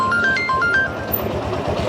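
A short electronic phone ringtone chirps a quick melodic pattern, then fades into low background noise.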